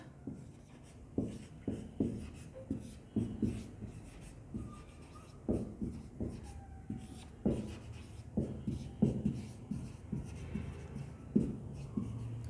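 A pen scratches out lecture notes in quick, irregular bursts of strokes, close and quiet, continuing for several seconds with short pauses between words and no talk.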